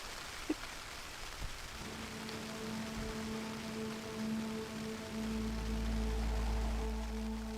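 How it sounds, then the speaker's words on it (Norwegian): Steady rain patters on a surface at a wilderness camp on a multi-day hike across Norway near Vaksdal, a continuous wash of drops with a few louder taps early on, a low steady hum and a rumble swelling toward the end. "Det regner jo!"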